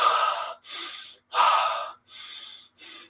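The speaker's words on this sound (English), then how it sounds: "Arms up towards the sky and breathing with your chin up like" Deep, forceful breaths taken with arms raised and chin lifted, five loud close bursts in a steady rhythm, each separated by brief silence, with no talking.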